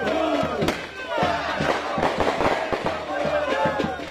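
Sharp firework bangs and crackles go off repeatedly amid a shouting, cheering crowd outdoors at a street party outside Benfica penitentiary in Rio de Janeiro.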